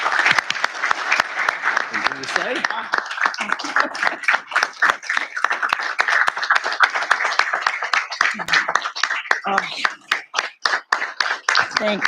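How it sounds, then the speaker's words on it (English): Applause from an audience at a transportation planning board meeting, steady dense clapping throughout, with a brief spoken question over it near the start and a thinning toward the end. "Would you join with me just in another round of applause for Ms. Sheila?"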